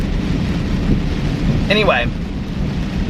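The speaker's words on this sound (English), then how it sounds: "And now it's like full on pouring down rain." Heavy rain pours down steadily on a dark night, a dense hiss with a low thunder-like rumble underneath. A voice speaks a single brief word partway through.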